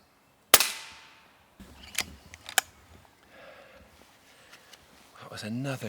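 An air rifle fires a single sharp close crack at a squirrel, followed by scattered faint clicks and rustles, then a voice speaks at the end.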